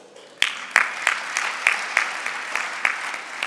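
An audience at a senior citizens' sector parliament breaks into applause, starting with a few sharp claps and settling into steady, moderately loud clapping that continues to the end.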